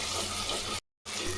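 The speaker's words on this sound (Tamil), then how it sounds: "இது நல்லா பச்சை வாசனை போகிற வரையும் வதக்கலாம்" Dried chillies, ginger and garlic sautéing in hot oil for a Chettinad mutton kuzhambu give a steady, close sizzle and crackle that cuts out briefly near the end, then resumes.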